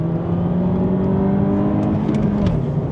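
An MK8 VW Golf pulls away hard from second gear, engine droning loud and steady from inside the cabin as the revs climb, then the pitch dips briefly near the end.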